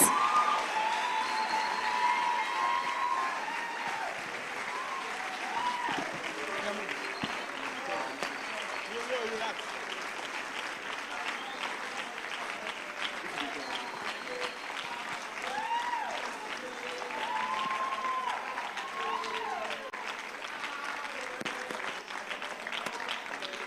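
Sustained audience applause at a national investment quiz competition finals, a dense steady clatter of many hands continuing for over twenty seconds, with a host's voice talking over it.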